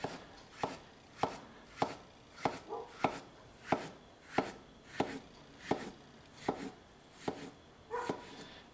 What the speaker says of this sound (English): you can just slice that right up like this